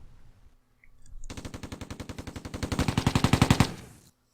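A tank attack in the war game Tigers on the Hunt: after a brief quiet, a long rapid machine-gun burst fires in even, evenly spaced shots. It grows louder, then cuts off and leaves silence.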